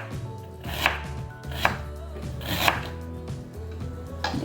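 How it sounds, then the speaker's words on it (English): Knife cutting thick slices on a cutting board, roughly four crisp chops spaced about a second apart, close and clear over a low steady hum. "And then this one, I want to do thick slices."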